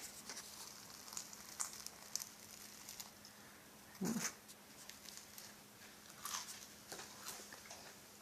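A fried bread stick (patongko) gives one short, crisp crunchy bite midway through, faint and close in an otherwise quiet room with a few soft ticks and knocks.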